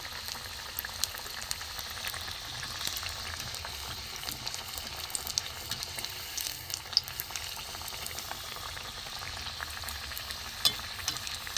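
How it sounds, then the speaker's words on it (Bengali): Cauliflower and carrot pieces fry over a low gas flame, giving a steady, soft crackle and bubbling sizzle that holds evenly throughout with no voices. "একটু লাল করে ভাজবো, কমিয়ে কমিয়ে, গ্যাস কমিয়ে কমিয়ে ভাজতে হবে।"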